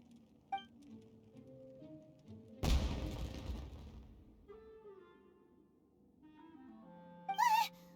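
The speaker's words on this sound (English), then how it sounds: "It sounded like fireworks." Fireworks go off in Genshin Impact: one sudden booming burst with crackling scatter that fades over a couple of seconds, framed by soft in-game music and a brief high chime near the end.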